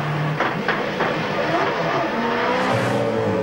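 Lowndes' V8 Supercar engine running abnormally during a 2001 championship race, a steady loud engine roar with uneven stuttering pulses and shifting pitch.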